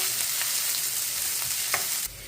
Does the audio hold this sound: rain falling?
no